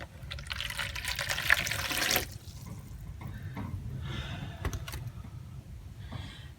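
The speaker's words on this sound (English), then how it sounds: "going to put my water in the bowl." Water pours from a tap or jug into a mixing bowl for homemade bread dough, a close, steady splashing rush for about two seconds, then quieter trickles and drips.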